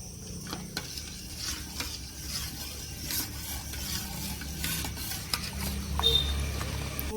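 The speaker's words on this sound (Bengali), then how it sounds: "এই আমটা ঘষে শাঁসটা বার করে নিচ্ছি" A fresh, ripe mango being rubbed against a grater to draw out its pulp while making mango yogurt at home, giving a steady close scraping and rasping texture with small irregular knocks, no voices.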